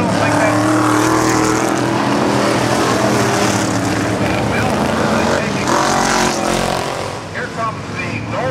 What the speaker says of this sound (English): Here comes the Nova, the 68 Nova, the red car, way up on the outside, and he is charging right now.